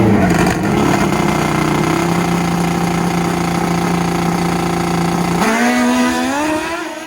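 Nitrous-fed 500HP drag racing motorcycles in the 4.60 class roar at close range, a loud sustained engine drone that holds steady before climbing sharply in revs near the end and then fading.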